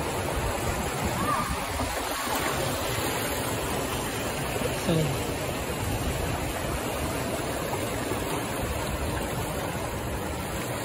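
Water rushes steadily through an urban area near a mall and market, a constant broad roar with a faint voice briefly heard over it.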